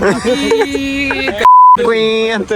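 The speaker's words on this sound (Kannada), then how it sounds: "ಬೀಪ್ ಹಾಕ್ಬಿಟ್ಟು" A steady censor beep tone cuts in for about a quarter second between stretches of loud, expressive talk among friends on a trip to Coorg.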